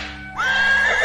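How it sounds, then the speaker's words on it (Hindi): A cart horse gives one clear, loud whinny that rises and then holds for under a second, heard alone with no talking. "गाड़ी वाले ने चाबुक चलाई और घोड़ा गाड़ी दौड़ पड़ी।"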